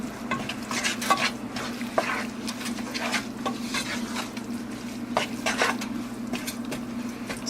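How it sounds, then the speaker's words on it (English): A pot of liquid heats on the stove toward a boil, giving a steady close bubbling and hissing bed with scattered soft pops and clinks over a low hum, and no voices. "It's starting to boil, guys."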